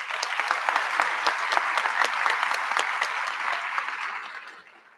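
An audience at a school district scholarship presentation claps for Go Center coordinators, the sharp individual claps clearly separated in a moderately sized crowd, steady at first and then tapering off toward the end.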